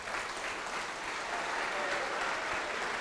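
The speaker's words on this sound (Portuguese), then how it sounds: "Vamos aplaudir a palavra de Deus." Brief burst of steady applause from a church congregation, many hands clapping together evenly for a few seconds.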